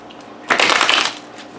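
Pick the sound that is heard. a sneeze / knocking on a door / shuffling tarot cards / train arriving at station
shuffling tarot cards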